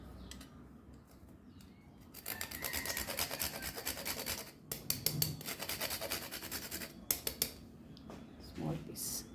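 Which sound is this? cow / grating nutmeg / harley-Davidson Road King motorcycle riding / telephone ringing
grating nutmeg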